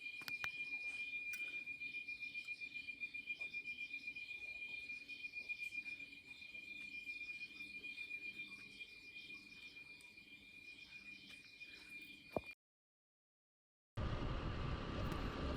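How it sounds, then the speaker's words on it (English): Crickets chirp at night in Ha Giang, Vietnam, a faint steady trilling pulse continuing for about twelve seconds under light wind, before cutting off. "the crickets, of course."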